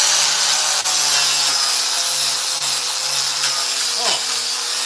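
A chainsaw carves a wooden rainbow trout sculpture, giving off a continuous loud buzzing drone that barely varies over a few seconds.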